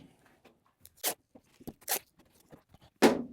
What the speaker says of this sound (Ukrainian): Беру зелений скотч, щоб розділити приблизно навпіл